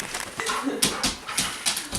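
A dog whimpers and yips in short repeated bursts indoors, with sniffing or panting between cries, fairly close and with no talk over it.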